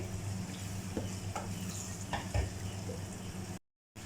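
A spoon stirs yogurt into Kashmiri chicken masala in a sizzling pan, with scraping strokes every half second or so over a continuous close fry, ending with a short cut to silence.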